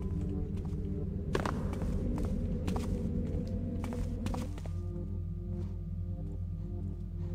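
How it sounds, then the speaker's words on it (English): Footsteps in the Thief video game, a muffled run of steady steps over a dense low ambient drone with a few thuds, no voices. "I hear footsteps to the east"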